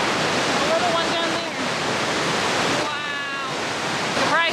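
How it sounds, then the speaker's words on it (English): Upper Mesa Falls in the Tetons, 114 feet tall and 200 feet wide, gives off a loud, constant roar of falling water, with faint voices and whistling tones over it. "You can probably hear the roar of that water."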